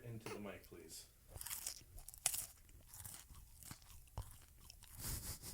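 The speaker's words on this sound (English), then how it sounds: "Chew it into the mic, please." Person chewing food right up against a microphone during a podcast, with irregular wet crunches and bites, sharp close clicks and smacking scattered over a few seconds.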